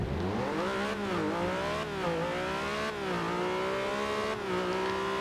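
An upgraded car in Forza Horizon 2 accelerates hard, its engine climbing in pitch through several quick gear shifts, loud and close with no talking.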